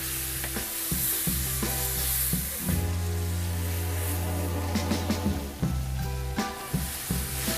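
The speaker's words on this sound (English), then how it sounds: "I don't need all the fat that's left in the pan, but I'll leave a little to fry the spice paste." A garlic and ginger spice paste frying in a little leftover fat in a pan for chilli coconut chicken, giving a continuous close sizzle with repeated spoon stirs and scrapes over several seconds, no talking.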